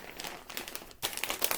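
Plastic bags from a seller's packing supplies crinkle and rustle up close, in two bursts with a brief pause around the middle, with no talking.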